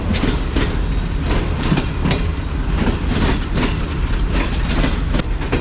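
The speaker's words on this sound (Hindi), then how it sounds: "11:56 पर अप्रोच बना रही है मेहरापुर रेलवे स्टेशन पर।" The Tezgam passenger train rolls into Mehrabpur railway station at night. It makes a loud, close, continuous rumble with rhythmic clickety-clack wheel beats over the rails.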